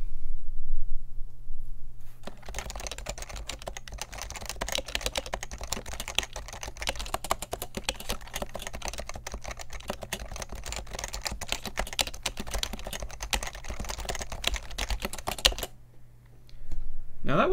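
Rapid, steady typing on a mechanical keyboard resting on a Cherry desk mat, continuous clicks and thocks for about thirteen seconds over a low hum, with quieter moments before and after.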